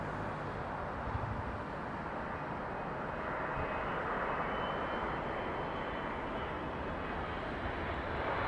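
A British Airways Boeing 777 arriving at London Heathrow makes a steady, broad jet roar that holds at an even moderate level throughout.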